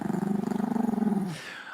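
Jojo, a puppy just roused from sleep, gives a close, rumbling growl that pulses steadily for over a second before trailing off into a softer whine, with no talking over it.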